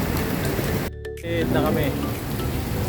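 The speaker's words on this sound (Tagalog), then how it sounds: "Malakas ang ulan talaga oh." Heavy rain roars steadily close by, dense and loud throughout, with a brief dip in the downpour and a short spoken phrase over it.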